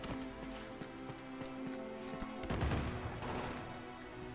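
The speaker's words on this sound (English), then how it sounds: "The hell are they shooting at?" Enemies shooting guns in Uncharted 2: Among Thieves, a faint, distant patter of repeated shots over steady background music, swelling into a louder burst of gunfire partway through.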